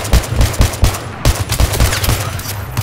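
Semi-automatic MK11 Mod 0 and SVD rifles fire in a shooter game, a dense run of loud, sharp shots in quick succession with heavy low-end thump and no pause.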